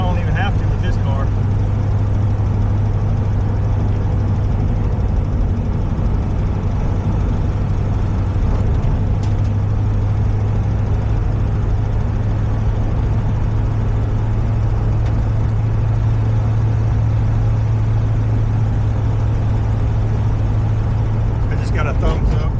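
A 1937 Buick Century cruises down a rough road, its steady low engine drone and road noise running continuously and close by, with someone talking over it throughout.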